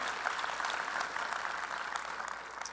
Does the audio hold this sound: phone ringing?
no